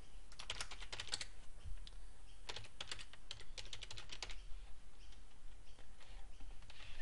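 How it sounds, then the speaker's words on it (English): A message typed on a computer keyboard: steady bursts of quick, light key clicks, close and fairly quiet, with short pauses between runs and no talking. "Then we type the message."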